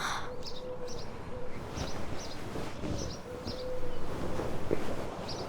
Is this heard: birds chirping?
yes